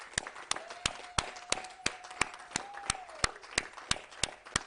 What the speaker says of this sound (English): Can we clap more?